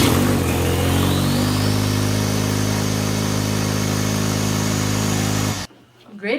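A Ford Mustang's turbocharged engine runs at a steady, loud idle with a faint rising whine early on, then cuts off abruptly near the end.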